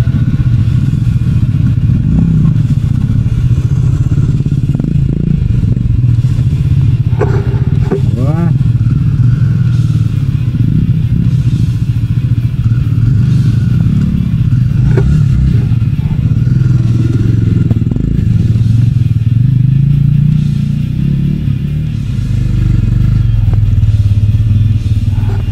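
Enduro motorcycles ride a trail in the Oymur area near Lake Baikal, a steady low engine drone with rises in revs and occasional clatter and thuds running throughout, with people talking over it.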